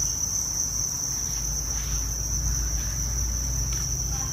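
Crickets in breeding boxes keep up a dense, continuous high chirping, steady and close, with soft scraping sounds beneath.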